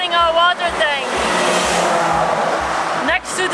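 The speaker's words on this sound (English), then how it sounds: "You hear a lot of traffic here." Road traffic passes along a main road beside a parked camper van in the mountains of Kazbegi, Georgia, with cars rushing by in a continuous whoosh, one vehicle sweeping past up close, while a voice talks over the noise.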